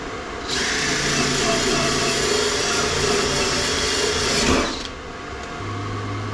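A cheap eBay HITBOX HBM1200 flux-core welder welds metal plates with a loud, steady crackling buzz that runs for about four seconds and then stops, leaving a lower background hum.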